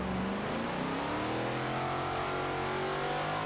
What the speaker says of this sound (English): Man, I just love the sound of that V8.